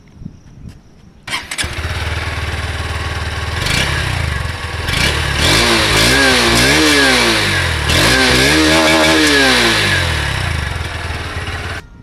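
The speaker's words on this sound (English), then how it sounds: "Let's check out the exhaust note of the bike" A Honda Hornet 2.0 motorcycle starts up with a short crank, then settles into a steady, close, loud exhaust note at idle, with a few blips of revving midway before easing back to a constant idle.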